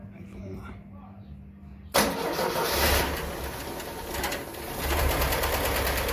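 A blue Chevrolet Opala Comodoro coupé with an alcohol-fuelled engine, primed with a shot of gasoline, fires on the first try after a quiet lead-in, then settles into a loud, steady running rumble close by.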